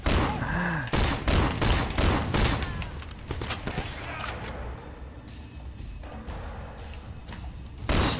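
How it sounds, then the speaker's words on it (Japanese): Shotgun blasts and explosions in a Sleeping Dogs firefight ring out in a rapid, loud burst of repeated shots, followed by scattered thuds and further gunfire, with a voice talking now and then. "ショットガン撃って連発爆発もしたけどヘッドショット。"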